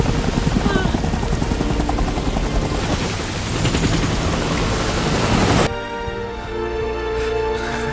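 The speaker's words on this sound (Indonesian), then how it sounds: "saat helikopter penyelamat sedang mendekat" A rescue helicopter approaching during a disaster, a loud roaring rotor wash with rapid chopping pulses that cuts abruptly to a lower, steadier engine drone.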